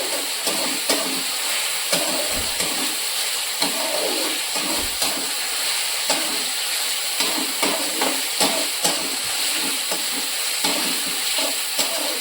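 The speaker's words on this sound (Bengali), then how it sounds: "এটা ভালো করে ভাজবো।" Food sizzling in hot oil in a home kitchen pan for iftar, a loud continuous hiss and crackle with faint periodic stirring clicks, close up and with no talk over it.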